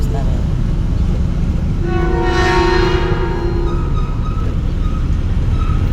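A loud horn blares for about two seconds over steady traffic or engine rumble, fading out as the noise continues.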